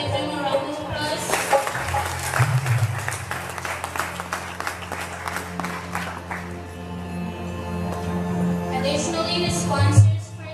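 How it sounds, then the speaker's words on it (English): An audience at a Mandir Devi Yajna night applauds the musicians. Sustained clapping fills the room and swells near the end, while a voice talks over part of it. "Ladies and gentlemen, please give them a round of applause."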